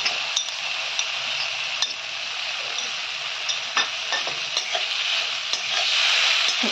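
Tomato sautéed and stirred in a pan of fish-head moong dal, a continuous close sizzle with occasional clicks and taps of the spatula, no voices.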